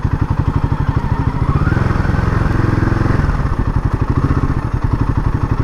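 A Royal Enfield Himalayan 450 motorcycle engine throbs loud and close during a ride, a steady rapid thumping pulse that rises and falls slightly with throttle.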